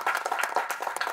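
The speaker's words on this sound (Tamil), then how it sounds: "அது சொன்ன உடனே எவ்வளோ கைத்தட்டல் பார்த்தீங்களா?" An audience applauds at a Tamil film audio launch, a dense burst of rapid hand claps filling a hall, loud and continuous for about a second with no voices over it.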